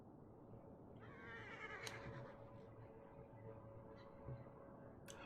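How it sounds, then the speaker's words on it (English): A horse neighs in the survival video game RAN: Lost Islands, a clear, drawn-out whinny rising and falling over a couple of seconds, followed by softer snorts and a few hoof thuds against steady ambient game sound. "what is the sound of that neigh? Oh, that's the horse I brought over."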